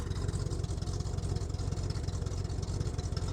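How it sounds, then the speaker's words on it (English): A 1973 Chevrolet Corvette with a 454 big-block V8 and 4-speed manual idles steadily, its exhaust a deep, loping burble held at close range with no talk. "Nice sounding exhaust."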